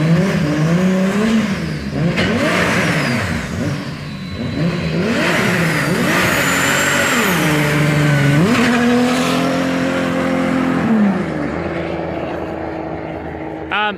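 A car engine making 1200 Nm of torque, with a turbo boost problem from a loose intercooler pipe joiner, revving loudly and repeatedly, its pitch rising and falling in several sweeping surges before cutting off.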